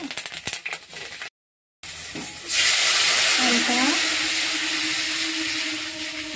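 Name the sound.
fish curry gravy boiling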